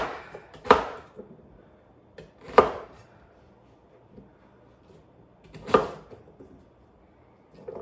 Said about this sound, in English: So I'm gonna chop up this.